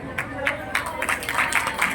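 Children's prize ceremony at a Gayatri Mahayagya farewell and rangoli award event, with an audience giving brief, scattered applause close by while a voice speaks over the clapping.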